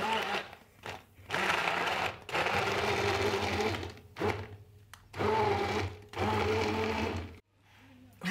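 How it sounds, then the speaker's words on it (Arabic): An electric blender whirs through sugar, mint and lemon for a mojito-style drink, running in several loud bursts of roughly a second or two, cut by brief pauses, with faint talk between runs. "نجيبو الخلاط الكهربائي ونرحو"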